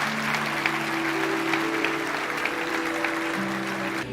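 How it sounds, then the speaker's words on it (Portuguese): Church congregation applauding after a sermon, a dense, steady wash of many clapping hands lasting several seconds, with a sustained musical tone underneath. "Dê uma salva de palmas a Ele."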